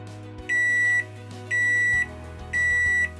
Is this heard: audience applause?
no